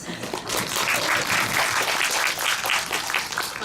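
Audience applause at a Korean film screening Q&A with an actress and director, a steady dense patter of many hands clapping at moderate loudness for several seconds, with no talk over it.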